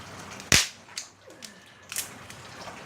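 A fatwood fire burning outdoors in the rain gives off a few sharp, sudden crackles and pops, one loud snap followed by fainter scattered cracks over quiet background hiss.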